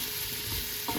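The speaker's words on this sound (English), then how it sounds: "it's time to caramelise the onion. A good stir, coating it" Onion being stirred and coated in curry powder as it caramelises in a pan, a steady close sizzle with brief scraping stir noises toward the end, no voices.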